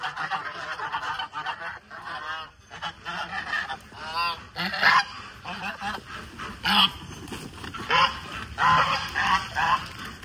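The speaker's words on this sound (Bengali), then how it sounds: "এখানে রাজহাঁসগুলো ছেড়ে দিই।" White domestic geese honk loudly and continuously as a flock is let out on a farm, with overlapping cackling calls close by and little talk.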